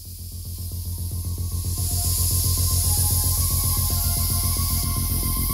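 Aerosol spray paint is applied to a bare-metal, glass-blasted Triumph Spitfire floor pan in a continuous close hiss, steady and loud throughout, with a low rhythmic pulsing beneath it and no talking.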